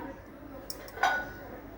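A metal lid set down over a cooking pan of meat in a home kitchen, a light clink and brief clatter standing out against a quiet background.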